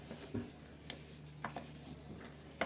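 Eggplant (brinjal) stuffing masala being mixed with a little oil: quiet, sparse soft taps and scrapes in an uneven rhythm, heard alone and close up, with no talking.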